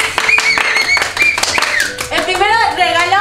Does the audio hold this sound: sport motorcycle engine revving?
no